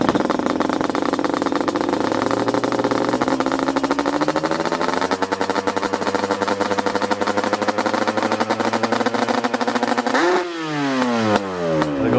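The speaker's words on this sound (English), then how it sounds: "Back to that crispy idle and then full throttle." A 2004 Yamaha Banshee ATV engine with a big gun exhaust idles with a crackly, popping sound, then revs sharply to full throttle and drops back, close and harsh.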